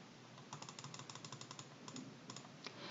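Computer keyboard keys clatter in quick bursts of typing while entering data into an Excel spreadsheet, close and fairly quiet, with short pauses between runs of keystrokes.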